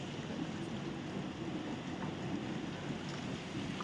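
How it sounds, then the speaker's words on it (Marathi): Steady rain falls without a break during a long spell of wet weather, a dense, even hiss with no pauses and no voices. "सतत पाऊस चालू आहे"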